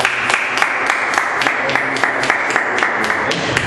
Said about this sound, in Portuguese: E que as palmas louvem a Deus, aleluia.